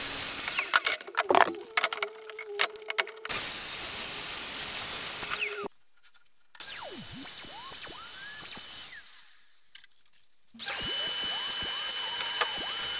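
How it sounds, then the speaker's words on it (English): A power tool cuts mortises for the fixed shelves in the tall side units of a wooden TV unit, sounding in several loud bursts of high whine and wood cutting separated by brief pauses. "we can quickly and repeatably cut the mortises for the fixed shelves in the tall left and right hand units"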